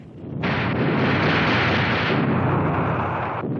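Marine artillery guns firing shells at the Khe Sanh combat base in Vietnam, a loud sustained roaring blast that swells suddenly and rumbles on for about three seconds before cutting off.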